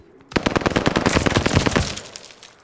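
A single close, loud burst of rapid automatic fire at the Call of Duty Vanguard hardpoint rattles for about a second and a half, then fades into a short echoing tail.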